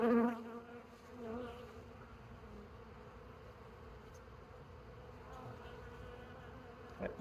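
Honey bees hum steadily during a beehive inspection, a continuous close buzzing drone that rises briefly at the start and end of the stretch.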